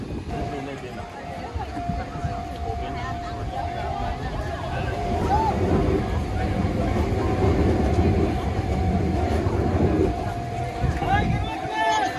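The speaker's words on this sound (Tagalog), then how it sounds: "tapos yung aabangan mo lang yung train na dadaan" A train rolls past a busy crossing crowded with people, a continuous rumbling clatter that builds and holds beneath chatter from the surrounding crowd.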